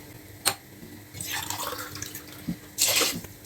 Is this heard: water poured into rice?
yes